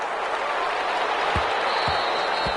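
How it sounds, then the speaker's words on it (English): Steady crowd applause and cheering from a PS4 football video game after a defensive stop, a broad continuous wash of clapping at moderate level with a few low thumps underneath. "How about some applause for the defense there?"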